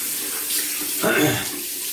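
Cold water runs steadily from a bathroom tap into a sink while a face is rinsed after a shave, a continuous close hiss with a brief surge of splashing midway.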